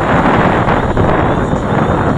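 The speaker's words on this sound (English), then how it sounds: "Okay, there's the wind pushing it." Strong wind buffets the microphone outdoors in extreme cold as a DJI Mavic Pro drone flies overhead, a loud, constant roaring rush with no distinct breaks.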